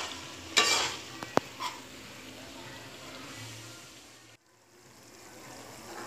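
Plain mawa (khoya) stirred and roasted over low gas in a pan for chashni zarda, giving a soft continuous scraping sizzle with a few sharp utensil clinks near the start, close and steady.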